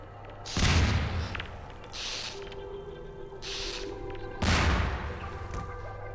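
Heavy explosions boom in Half-Life 2, two loud deep blasts a few seconds apart, each with a rumbling tail, separated by quieter crashes and impacts.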